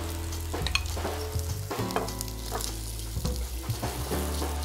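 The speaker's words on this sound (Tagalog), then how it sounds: "Gigisa na rin natin siya kasama ng squid balls." Kikiam and squid balls sauté in a pan with a little fat for pansit guisado, giving a steady crackling sizzle punctuated by the knocks and scrapes of a spatula against the pan.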